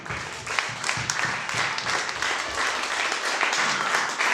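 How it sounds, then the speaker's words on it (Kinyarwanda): A crowd applauding leaders at a gathering, dense steady clapping that holds for the whole stretch, fairly loud and close, with no voices over it. "Aya mashyi ni ay'abayobozi"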